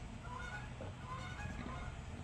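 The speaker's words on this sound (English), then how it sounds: "Pardon these noisy ass geese over here." Geese honking at a distance, faint repeated calls over a steady outdoor background hum.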